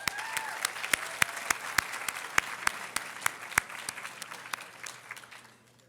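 Audience applause for speaker Elaine Jones at the CRSJ Thurgood Marshall Award Ceremony: sustained clapping from a modest crowd with some loud, sharp individual claps standing out, fading away toward the end.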